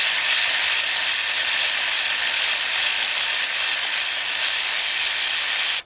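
A cordless ratchet spins a loosened spark plug out of a 2012 Ford F-150 FX2 with the 3.5 engine, a steady close-up buzzing whir that runs nearly six seconds without a break and then cuts off.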